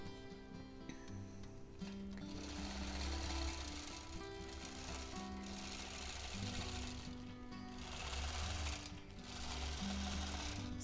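A sewing machine stitches steadily while freehand quilting and basting a minky-backed quilt, its rapid mechanical hum running continuously with small changes in speed and brief pauses, close and clear with no talking.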